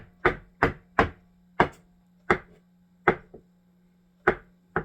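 A knife chops ham on a cutting board for ham salad, about nine sharp separate strikes at an uneven pace, close and crisp over a faint low hum, with no talk.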